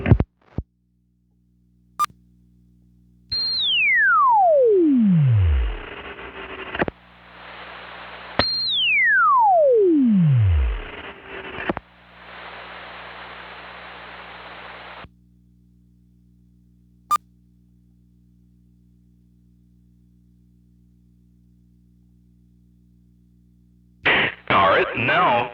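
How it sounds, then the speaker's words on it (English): A Hifi Stryker 955 CB radio on single sideband gives blocks of loud hiss and two long whistling tones that sweep downward. Short clicks, a low hum and a burst of garbled noise near the end follow the hiss. "I'm going to go to sideband on the monitor so y'all can hear it."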